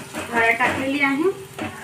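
A spoon stirs onions, green chillies and peas frying with turmeric in a pan, giving a soft sizzle with scraping strokes, close and moderately loud.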